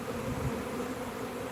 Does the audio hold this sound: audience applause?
no